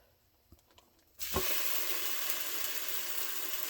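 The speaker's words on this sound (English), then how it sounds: "Doesn't that sound great? Sizzle, sizzle." After a quiet moment with a few small clinks, egg-soaked French toast hits a hot frying pan and a loud, steady sizzle fills the rest of the clip.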